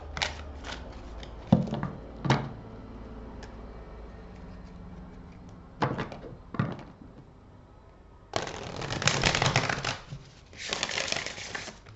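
Tarot cards are handled and shuffled before one is drawn: a few sharp card slaps and taps early on, then a longer, louder riffling shuffle toward the end.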